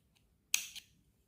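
Scissors snip through crochet yarn in a single quick, close cut with a short metallic follow-through, alone in a quiet room.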